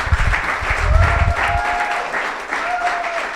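Student audience at a university presidential candidate debate breaks into applause with a few whoops and shouts, a sustained clatter of clapping with faint whistles, starting loud with low rumble and easing slightly.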